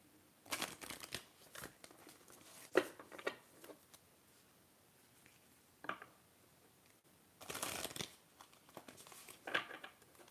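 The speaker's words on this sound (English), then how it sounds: "So I do want to go ahead and shuffle" Quiet bursts of tarot cards being shuffled and riffled, a few separate flurries with soft crinkling between them.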